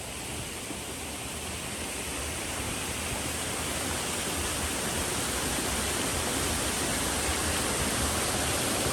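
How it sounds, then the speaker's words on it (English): Roar of a mountain spring waterfall, close by and loud: a steady, dense broadband rush that swells slightly and holds unbroken from start to finish with no voices over it. "I don't know if y'all can hear me over the waterfall"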